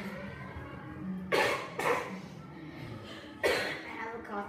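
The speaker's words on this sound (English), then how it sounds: "I have a cough today." A child coughs three times, sharp and close, in short bursts separated by pauses, with breathy sounds between.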